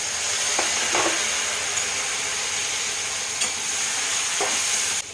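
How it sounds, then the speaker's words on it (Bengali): Spice paste fries with a splash of water for a bitter gourd curry, giving a constant close hiss and sizzle broken by a few brief stirring scrapes. "সামান্য একটু জল দিয়ে এটা কষবো"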